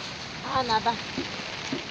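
Steady rain falls outdoors in the Panvel countryside as a soft, continuous patter and hiss, while a voice talks briefly over it.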